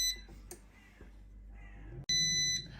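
An air fryer beeps loudly twice in steady harmonic tones, one short and one held, sharp and close against a quiet background.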